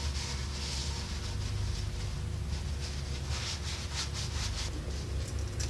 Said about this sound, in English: Use your brake cone to clean the axle eye.